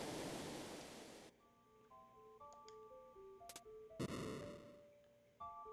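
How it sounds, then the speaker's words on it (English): Flowing water ambience in Final Fantasy VI, a broad rushing wash at the start that breaks off and gives way to melodic game tones and chimes, then a brief return of the rushing swell later. "It's the sound of flowing water?"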